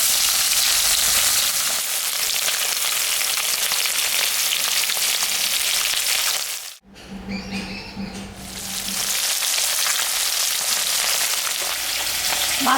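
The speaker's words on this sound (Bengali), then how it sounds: "মাছটা আমি এখন ভাজবো।" Gangkoi fish sizzles loudly in hot oil in a pan, a dense continuous frying hiss that briefly drops away mid-way, with a low rattle, before surging back.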